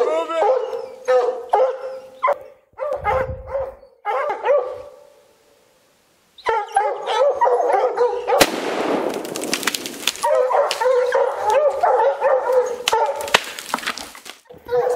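Hunting hounds on a Montana mountain lion hunt bay and howl loudly and continuously close by, with yips and barks layered over one another; a gust of wind or rustling noise joins partway, and people talk among the dogs.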